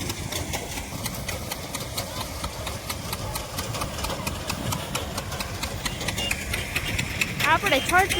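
A farm tractor engine idles with a steady mid-pitched chugging rumble and rapid regular ticking, while voices murmur faintly beneath it.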